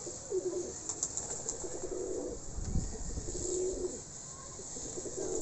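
A pigeon coos in repeated soft, low phrases, fairly close, with light outdoor background and no speech.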